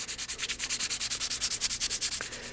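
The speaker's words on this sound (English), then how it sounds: "Sand in this direction, which makes little waffle squares." Aluminum being sanded by hand with 3M polishing paper and WD-40: a quick, steady back-and-forth rubbing rasp, about ten strokes a second, close up and alone.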